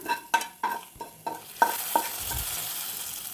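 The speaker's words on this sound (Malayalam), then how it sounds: "നമ്മൾ ചതച്ച് വെച്ച വെളുത്തുള്ളിയും ചെറിയുള്ളിയും ഇട്ട് കൊടുക്കുക എന്നിട്ട് നന്നായിട്ടൊന്ന് മൂപ്പിച്ചെടുക്കുക" Crushed garlic and shallots fry in oil as a tempering for a country-style ash gourd curry: a string of sharp spoon knocks against the pan, then a loud, sustained sizzle as the hot mix meets the curry.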